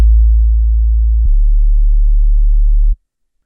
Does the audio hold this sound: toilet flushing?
no